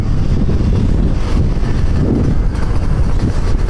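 Strong wind buffeting the microphone of a rider on a Serpico motorbike during a first road test, a constant loud roaring rush with low rumble throughout, no talk.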